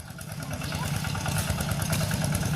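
A tractor engine runs close by with a steady, rumbling, slightly clattering idle that holds throughout and swells a little toward the end.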